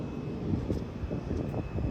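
Airplane passing overhead, a fairly faint, continuous low rumble with a gentle wavering roar throughout.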